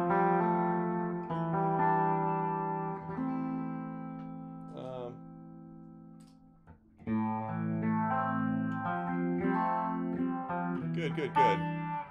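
Electric guitar through an amp, with delay from an H9 pedal and added reverb, playing sustained chords and notes that ring out with echo, then a pause and another phrase with a brief bright flourish at the end.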